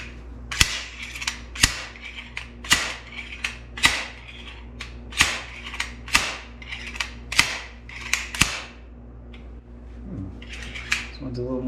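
Bearing puller tool working a stubborn suspension pivot bearing out of a Santa Cruz Hightower mountain bike frame, a close series of sharp metallic clicks and cracks, about a dozen evenly spaced, loud and alone.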